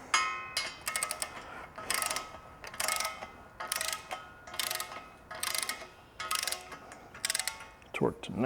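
A ratcheting wrench clicks in short repeated bursts while tightening fasteners to 19 pounds when fitting a County Line post hole digger onto a Kubota BX2380 tractor, about eight close rhythmic strokes with pauses between.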